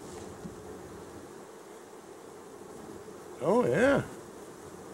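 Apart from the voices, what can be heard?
bees buzzing in a hive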